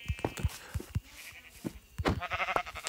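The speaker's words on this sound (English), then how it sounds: "Oh, sheep." Sheep bleating in the video game Minecraft, several short bleats in quick succession, fairly close and clear, followed by brief game sounds.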